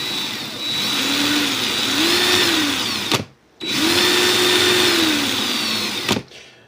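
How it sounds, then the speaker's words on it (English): A power drill running in reverse while twisting coil wire whirs steadily in two long bursts, each about three seconds, with a sharp stop and brief pause between them, loud and close. "drill in reverse."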